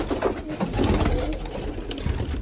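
Pigeons in a loft keep up a soft, continuous cooing, several birds overlapping in a low murmuring burble with no voices over it.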